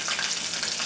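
Nori seaweed wraps fry in hot oil in a pot, a dense, steady crackling sizzle heard up close and alone.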